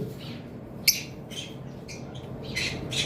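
A pair of Lime Fischer's lovebirds gives a few sharp, high squawks and chirps, one louder call standing out over a steady background hum.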